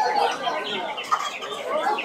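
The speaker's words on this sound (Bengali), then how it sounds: "এই পাশটাতে হাঁস মুরগি, বিভিন্ন সাইজের প্রজাতির হাঁস," Chickens cluck and squawk in a dense, continuous chorus at a busy street pet market in Kolkata where ducks, hens and quail are sold, close and fairly loud with a voice faintly mixed in.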